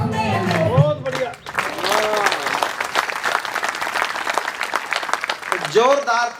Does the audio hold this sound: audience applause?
yes